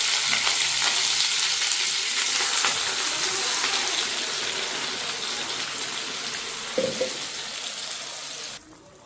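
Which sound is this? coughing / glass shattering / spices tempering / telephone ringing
spices tempering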